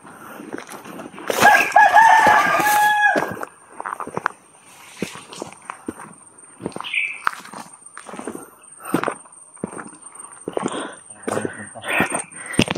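Chickens and a rooster in a video game cluck and crow, the loudest burst early on, then scattered short calls and footstep-like taps continuing beside a faint steady tone.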